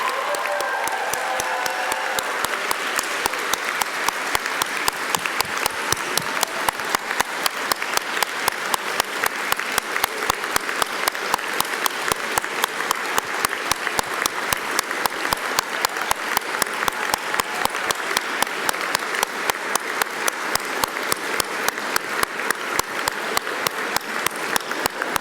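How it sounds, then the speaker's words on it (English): Sustained applause for 2019 graduates at a CÉGEP Heritage College graduation ceremony, a large crowd clapping in dense, steady rhythm that soon settles into a synchronized beat for the whole stretch. "So a solid round of applause for the 2019 graduates of CÉGEP Heritage College."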